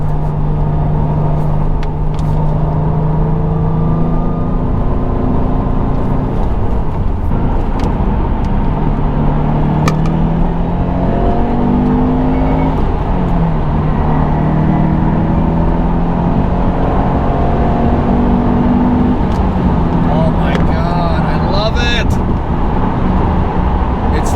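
Subaru WRX STI (2015–2021) with newly replaced suspension driving up a ramp, steady engine and road noise throughout with gear-related pitch sweeps, a voice talking over the car.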